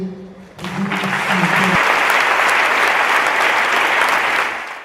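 A church congregation bursts into loud, sustained applause and clapping at an evangelistic worship gathering, rising quickly after a brief spoken moment and holding steady before tapering off.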